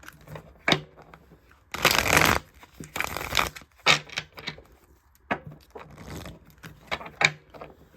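Tarot cards being shuffled by hand in quick bursts of riffling and slapping, close and crisp, with short pauses between shuffles.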